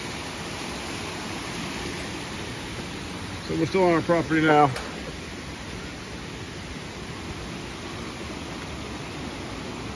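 A creek on rural property rushes steadily in a constant broadband wash of flowing water, with someone talking briefly in the middle over it.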